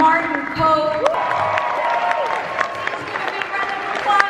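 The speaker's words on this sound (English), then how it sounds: "give a big round of applause for Ralph Macchio" A large convention crowd in Hall H at San Diego Comic-Con 2019 applauds and cheers, dense and sustained, with a voice audible and a few whoops rising over the clapping.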